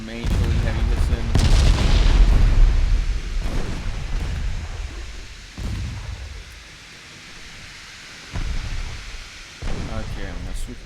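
Heavy naval gunfire in Ultimate Admiral Dreadnoughts: a sustained rumbling barrage of deep booms, loudest early on, then several separate thudding blasts a few seconds apart, with a voice talking over parts of it.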